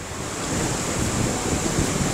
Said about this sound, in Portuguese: e o agito das ondas